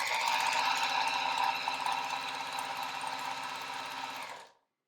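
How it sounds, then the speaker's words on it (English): A sewing machine top stitches a bag lining closed in one steady, loud run of rapid stitching that stops abruptly near the end, with no talk. "That opening in the lining, press it even, and then just top stitch it closed."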